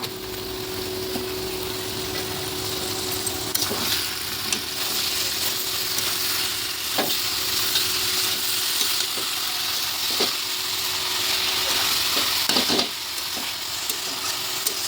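Spinach and carrot fry in a pan with turmeric, giving a loud, steady sizzle throughout, broken by a few sharp clicks from stirring.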